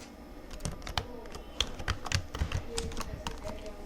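Keys tapped on a computer keyboard while entering text in the Edius titler, a steady run of close, light clicks in quick irregular rhythm with no talking.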